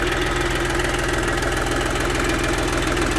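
A tractor engine idles loud and close, a steady rhythmic diesel chug with a dense knocking pulse and no pauses or speech.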